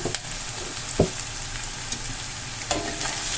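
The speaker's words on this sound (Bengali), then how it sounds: "আমি নাড়াচাড়া করে সমস্ত পেঁয়াজ কাঁচা লঙ্কা আর হলুদ গুঁড়ো নুন সমস্ত কিছু ভালো করে নাড়াচাড়া করে নিচ্ছি" Chopped onion, green chilli, turmeric powder and salt sizzle steadily in a pan over a medium flame while being stirred for a pea paneer dish. A few scrapes of the spatula stand out over the frying hiss.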